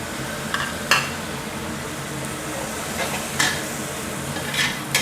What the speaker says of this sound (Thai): ผัดคลุกเคล้าก่อนนะครับ ตามด้วยกุ้งแล้วก็ปลาหมึกนะครับ